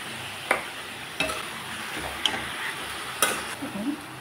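Boiled chopped chickpeas frying with turmeric and salt in a pan, a low steady sizzle punctuated by a handful of sharp spatula scrapes and clicks, close and without speech.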